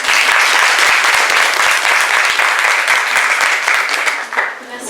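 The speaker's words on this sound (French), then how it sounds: "Applaudissez s'il vous plaît." Loud, close audience applause at a gathering, continuous dense clapping that tapers off near the end as a voice begins.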